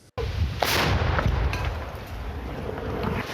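A sudden loud boom from artillery shelling bursts in after a brief silence, followed by a long rumbling roar and crackle that keeps going at high level.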